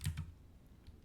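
A couple of quick keystrokes on a computer keyboard while a Docker Compose command is entered, close and crisp at the start, then quiet room tone.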